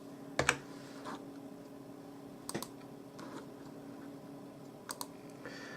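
A computer keyboard being typed on during a maintenance check: three short clusters of keystroke clicks, spaced a couple of seconds apart over a faint, steady background hum, with no talking.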